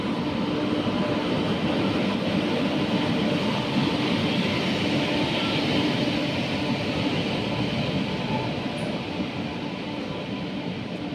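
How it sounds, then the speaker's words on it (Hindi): A train arrives at a station with a loud, continuous rumble and rushing roar, steady for about eleven seconds with a slight easing toward the end and no speech. "ट्रेन भी आ गई थी इस टाइम पे"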